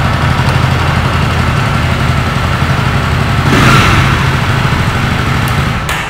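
A Jawa Classic motorcycle engine runs close and loud after a one-touch start, settling into a steady, even idle with a brief swell of revs midway before easing off at the end.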